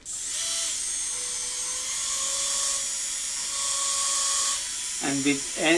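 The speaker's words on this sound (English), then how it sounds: "like with any other osteotomy burr, you want to have a pumping motion to allow the irrigant to get to the bottom of the osteotomy" A high-pitched surgical osteotomy burr whines steadily as it drills into a practice block with irrigation, the near, sustained whine shifting slightly in pitch, followed by brief speech at the end.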